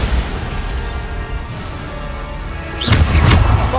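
A Bombarda blasting spell explodes in the Hogwarts Legacy video game, giving a heavy rumbling boom with a swelling burst near the end, with no voices.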